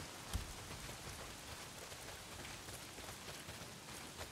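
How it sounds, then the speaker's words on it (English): Heavy, steady rain pours down in the video game Days Gone, a dense, continuous hiss with a single sharper drop-like tap near the start and no voices. "Well, not if it's pissing down rain."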